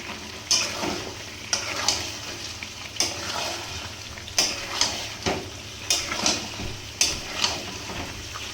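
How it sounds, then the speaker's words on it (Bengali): Chicken being sautéed (kosha) in a pan, a steady sizzle punctuated by about ten sharp scraping strokes of a spatula against the pan at roughly one-second intervals. "এই যে এখন কষাচ্ছি, এখনও 10 মিনিট কষাবো"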